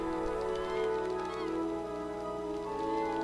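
Bird calls in the intro of the Wild ARMS 5 video game, steady honking, goose-like cries blended with sustained intro music throughout.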